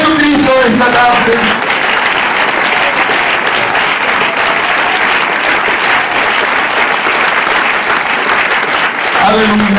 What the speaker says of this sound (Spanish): Den un aplauso a Jesucristo esta tarde.